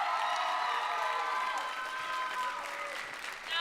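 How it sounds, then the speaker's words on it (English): Applause from a show choir concert audience, steady and moderately loud clapping with a few cheers, fading slightly toward the end. "Give another round of applause for Mason Wolf."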